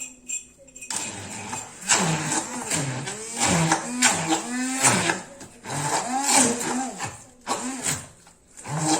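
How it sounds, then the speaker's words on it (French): An immersion hand blender whirs through a savory crêpe filling in short loud pulses, the motor pitch rising and falling as it churns, close and without talk. "je vais mixer un petit peu avec le bras"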